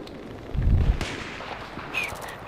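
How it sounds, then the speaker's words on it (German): Gunfire in the multiplayer video game Battlefield 3, a heavy booming shot, then a sharp crack and later distant shooting over a steady background rumble of battle, with no talking. "Natürlich brauche ich mit der Sniper ja auch zwei Schüsse"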